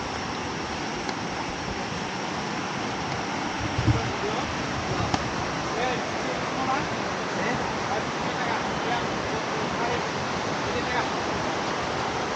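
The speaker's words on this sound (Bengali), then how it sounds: "পানির স্রোত আবার শোনা যাচ্ছে পাহাড়ে মনে হয় বৃষ্টি হচ্ছে" Rushing stream water in the hills at Debotakhum, Bandarban, a steady broadband wash of flowing water filling the whole stretch, close and continuous with a few brief knocks.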